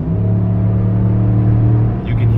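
A 2020 RAM 1500 with a B2 Fabrication exhaust and muffler delete rumbles close by as it's given gas, a deep steady engine drone with a low throb that dips briefly and then swells again.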